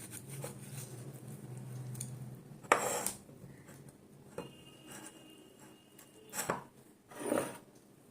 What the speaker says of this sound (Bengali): এখানে আমটাকে যেমনভাবে কাটা হয় ওইভাবেই কাটবো